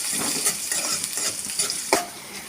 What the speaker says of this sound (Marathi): लगेच कांदा घालून घेणार आहोत त्याच्यामध्ये फोडणीला